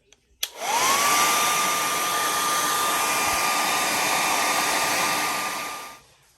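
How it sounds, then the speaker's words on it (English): A hot hair dryer blows on the iced-up parts of a Samsung refrigerator that is not cooling. A click starts it, then a loud steady whirring rush with a high motor whine runs for about five seconds before it winds down. "we're gonna blower this thing with a hot blower so that we can melt this thing right away"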